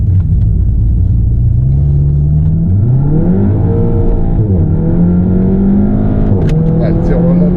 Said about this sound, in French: Et le son franchement du moteur, vraiment j'aime beaucoup. Avec le dome valve en plus.